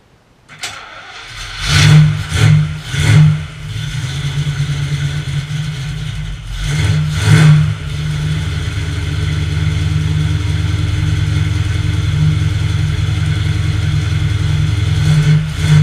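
A 1969 AMC AMX engine cranks and catches, gives a few loud revs, then settles into a steady, rumbling idle, close and loud with no talk.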